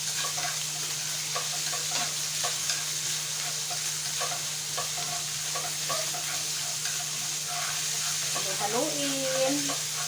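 Minced pork sizzles and fries in a pan while a utensil stirs and scrapes it in steady strokes, with a constant low hum under the cooking.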